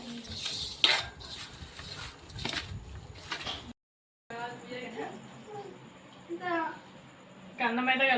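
A mother mixing rice with mango pickle in a dish at home, giving scattered clinks and scrapes of utensils against the plate, heard beneath frequent close conversation.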